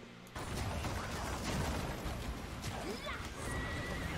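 A horse neighs from a Summoner's horse skill during a ranked PvP match in the video game Lost Ark, a whinny mixed into busy game effects and mechanical clatter, with clip-clop and a voice talking over it.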